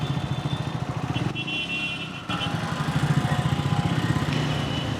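A 2026 Triumph Scrambler 400X motorcycle runs on the road, its engine thrumming loud and close with a steady pulsing beat, briefly easing off during a gear change before pulling again.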